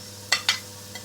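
Ginger and garlic fry in hot vegetable oil in a pan, a soft steady sizzle under two or three quick scraping stirs.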